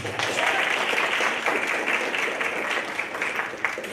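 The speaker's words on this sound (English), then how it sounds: "Let's give another round of applause for him." Audience applauding a student speaker after a soapbox speech at a social justice day event; dense, continuous clapping from a crowd at steady volume for the whole stretch, no voices standing out.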